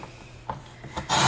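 A thin extra sliver is cut off a wooden box piece. A few short, close rasping strokes on the wood are followed by a louder, continuous scraping rasp at the end.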